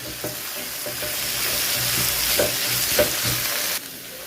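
Sesame and dry chillies stirred into a frying pumpkin curry, a steady hiss of sizzling oil with several distinct scraping strokes of a spoon against the pan at a loose, irregular rhythm.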